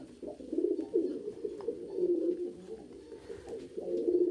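A pigeon coos close by in a series of soft, low, rolling calls with short pauses between them, heard alone against a quiet background.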